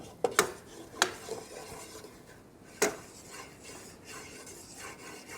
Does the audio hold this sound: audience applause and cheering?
no